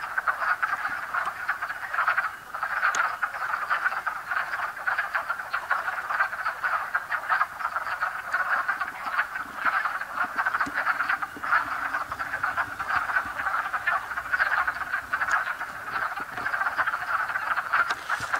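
Wood frogs croak in a dense, continuous chorus from below a valley overlook, a steady throbbing mass of calls with no voices.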